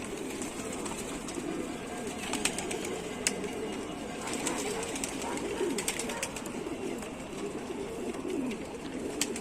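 Two pigeons in a loft in Tanta coo softly and repeatedly against a busy background of rustling and other birds, and someone talks quietly now and then.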